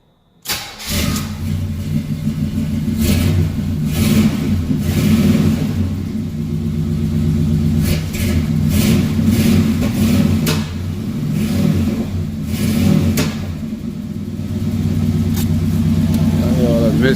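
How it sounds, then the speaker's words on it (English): A 1974 Chevy Caprice Classic V8 idles roughly and revs repeatedly, its deep rumbling engine misfiring and surging in bursts, loud and close throughout with no speech over it. "good running sounding car. That's the motor right now."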